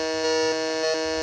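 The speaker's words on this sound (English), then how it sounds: "let's do the buzzer" Game show buzzer tone, a steady harmonic electronic drone held for just over a second, loud and alone.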